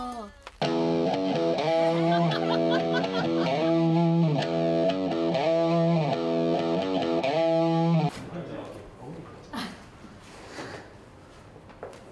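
Distorted electric guitar with a B-bender, strings 1 and 2 pulled up and down like a whammy arm, playing sustained warbling bent chords loudly for about eight seconds, then giving way to quieter clattering noise.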